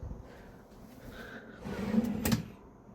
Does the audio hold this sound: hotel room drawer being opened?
yes